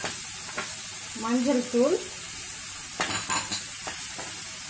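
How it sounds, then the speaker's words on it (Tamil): Onion and green chilli frying in hot oil in a home kitchen pan, a loud close sizzle with stirring scrapes, while a voice briefly speaks over it. "ஆயில் சூடாயிடுச்சு, இப்ப நம்ம ஆனியன் போட்டுக்கலாம்."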